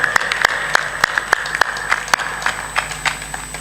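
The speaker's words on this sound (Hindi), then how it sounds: "तालियां बजती तो हैं" Sparse, half-hearted clapping from a small satsang audience, scattered individual claps spaced irregularly rather than a full burst, fairly close and steady at low level.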